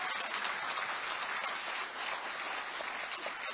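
An indoor party rally audience applauds for party leader Lee Jun-seok, producing a dense, even wash of clapping from many hands that holds steady at a moderate distance throughout.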